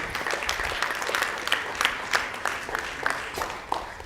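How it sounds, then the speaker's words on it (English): Conference audience claps for about four seconds, a moderately loud patter of many hands with some sharper individual claps standing out. "Please, let's give Madam a round of applause"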